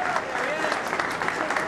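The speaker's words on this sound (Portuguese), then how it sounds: "Uma salva de palmas para ele." Crowd applause for a mountain bike raid rider in Beja, a dense continuous clatter of clapping with voices mixed in underneath.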